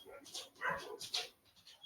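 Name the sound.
dogs barking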